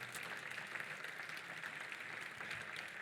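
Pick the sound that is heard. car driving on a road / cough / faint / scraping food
faint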